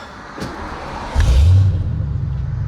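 A Fox-body Mustang with SLP Loudmouth exhaust cranks and fires up into a deep, loud exhaust rumble that settles into a steady idle.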